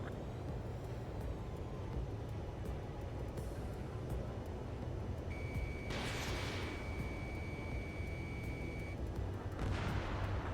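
Anti-aircraft guns fire in the Ace Combat 7 video game, heard as faint, distant bursts of artillery-like booms over a low, steady battlefield rumble, with two sharper blasts standing out late on.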